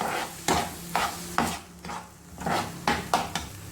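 Breakfast ingredients with turmeric being stirred and mixed in a pan, a run of regular scraping strokes about every half second, close and fairly loud with a light sizzle underneath and no talking.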